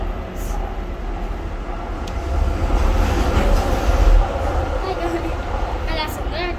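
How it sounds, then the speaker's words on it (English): A Docklands Light Railway train rolls past nearby with a loud rumble that swells mid-clip, with rail clatter and faint wheel squeal, while people talk over it. "And that's another DLR that's doing backwards."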